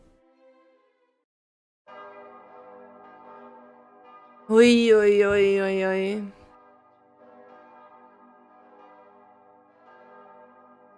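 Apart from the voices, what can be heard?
bells tolling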